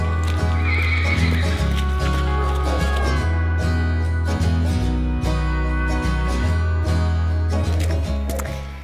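Horses whinny and hooves clip-clop on a wet farm morning as a donkey and horses are led toward their pen at a horse shelter on farrier day, all over a loud steady low hum with no talk.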